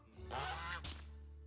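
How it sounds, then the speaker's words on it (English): Geese in a cartoon: a single loud nasal honk rises and fades over a low steady hum, quickly followed by a shorter second honk. "What are those birds? Geese."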